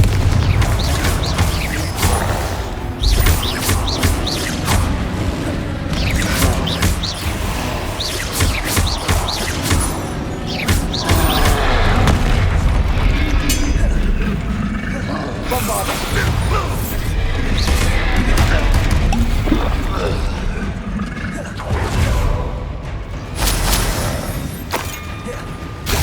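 Confringo blasting spells exploding in the video game Hogwarts Legacy, a heavy run of booming blasts, crashes and thuds packed closely together, loud and near, with a voice shouting over the fight.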